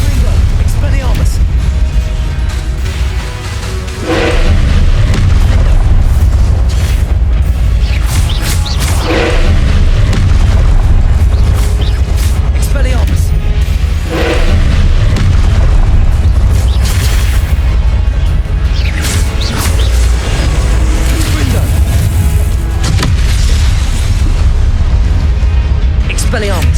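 Confringo blasting spells explode again and again in the Hogwarts Legacy video game: heavy booming bursts land every few seconds over a dense, continuous layer of game noise and rumble.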